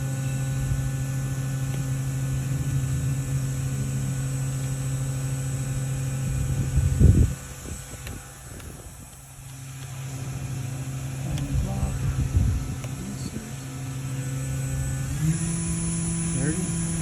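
A 2008 FANUC Robodrill A-T14iFe CNC vertical machining center spindle spinning up to 10,000 RPM: a steady, loud mechanical whine with a constant hum, a surge partway through, and a pitch step near the end, with a voice speaking at times.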